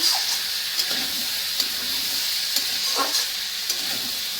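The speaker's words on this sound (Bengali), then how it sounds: "হলুদ দিয়ে নেড়েছে আবার ঢেকে দেবো।" Vegetables frying in a pan with turmeric, under a steady loud hiss and sizzle, with a few soft stirring scrapes and taps rising above it, close by and with no talk.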